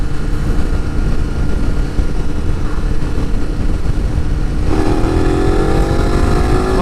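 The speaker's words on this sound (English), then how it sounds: "I'm going to give it a little bit of gas, and then you can see what the acceleration is like" A 2019 KTM Super Adventure S motorcycle accelerating in 4th gear, with loud wind rush at speed and the engine note climbing steadily as it pulls harder over the last couple of seconds.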